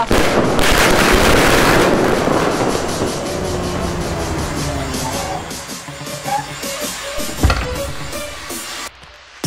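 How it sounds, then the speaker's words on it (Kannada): A dense burst of rapid crackling firecracker bangs fills the opening seconds, then thins into scattered pops and one loud report before fading out. "ಹಚ್ಚಿರ್ಲ ಪಟಾಕಿಯ"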